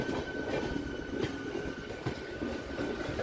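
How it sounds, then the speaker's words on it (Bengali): A Kharagpur-Howrah galloping local train rolls past with a steady, loud rumble and a faint high ringing tone throughout, and no voices. "এটা খড়গপুর হাওড়া গ্যালোপিং লোকাল।"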